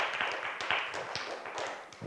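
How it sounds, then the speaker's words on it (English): An audience applauds a speaker at a talk: steady, moderately faint clapping from a modest crowd, sustained with scattered sharper claps and no voices over it. "Please give her a round of applause"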